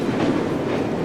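Train in Assassin's Creed Syndicate rolling along rails, a steady dense rumble with a rhythmic clickety-clack of wheels, loud and continuous throughout the moment.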